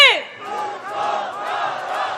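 A protest crowd at a candlelight rally in Cheonggye Plaza shouts rhythmic slogans in unison, several loud, drawn-out chanted phrases from many voices, following a sharp leader's call at the start.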